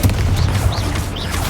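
Confringo blasting spell from Hogwarts Legacy on Xbox Series X, a steady low rumbling boom of magical explosions with whooshing bursts layered over it, loud and continuous through the short moment.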